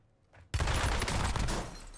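Sustained burst of AK rifle fire in a first-person shooter video game, loud and close, starting abruptly after a brief quiet moment and continuing as rapid rattling shots for about a second and a half.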